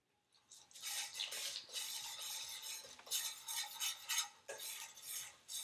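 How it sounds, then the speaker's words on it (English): A spoon stirs Caribbean lamb stew in a pot of hot smoking oil, close bursts of scraping and sizzling that rise and fall in waves over a quiet background, with no talking. "I'm stirring it for it to cook evenly."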